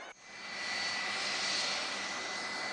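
Trump Force One, a jet aircraft, gives off a loud, sustained engine roar that swells after a brief cut and holds steady and broad, with no voices over it.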